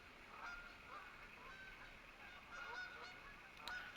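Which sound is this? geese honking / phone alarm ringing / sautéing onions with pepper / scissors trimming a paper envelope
geese honking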